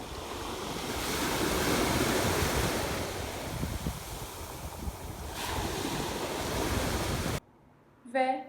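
Sea waves wash steadily onto the beach at Anamur, with broad surf noise and wind buffeting the microphone, then the sound cuts off abruptly near the end.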